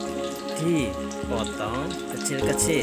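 Pieces of dried stingray fish fry in hot oil in a wok, a soft, crackling sizzle running beneath a woman's speech.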